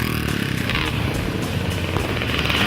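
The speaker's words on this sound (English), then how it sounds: "Leading the motorcycles around was stunt rider Matt Mingay," A motorcycle engine roars steadily nearby, its rough buzzing drone holding at a constant high rev with no voices.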